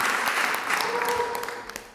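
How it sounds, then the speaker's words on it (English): Clapping from a city council meeting audience honoring a girls basketball player, a brisk burst that fades slightly toward the end. Some voices and a brief tone sound under it. "So just give her another round of applause."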